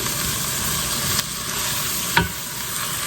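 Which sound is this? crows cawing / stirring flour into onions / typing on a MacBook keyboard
stirring flour into onions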